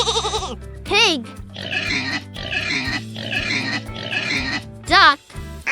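A pig grunts and oinks in a series of short bursts over a backing of children's music, with a sung or spoken voice cutting in at the start and near the end.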